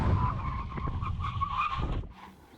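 A BMW 760Li making a full emergency stop, a loud tonal tire squeal with engine and road rumble that cuts off suddenly as the car halts, heard up close.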